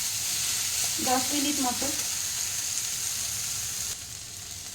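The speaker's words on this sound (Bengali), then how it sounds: "এটা হালকা আদা ফ্রাই করে নিলাম" Ginger frying lightly in a pan for an okra curry, a steady close sizzle under brief talk in Bengali.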